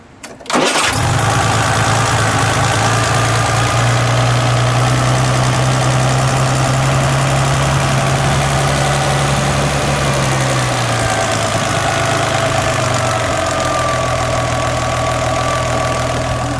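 A 1965 Aston Martin DB5 engine starts up and idles steadily and loudly nearby, its low rumble briefly rising and then dropping back to a constant idle.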